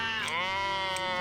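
A sheep being sheared by hand at an Old Home Day fair gives one long, loud, wavering bleat close by, with a slight rise and fall in pitch.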